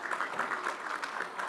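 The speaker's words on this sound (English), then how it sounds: "So another round of applause for Bhumi, please." An audience at a corporate climate-awareness campaign event applauds steadily, a quiet continuous patter of many hands that sounds a little distant and stays free of talk.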